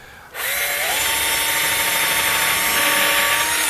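A power screwdriver drives a screw into a door fitting, a loud continuous whirring motor starting abruptly and running steadily up close.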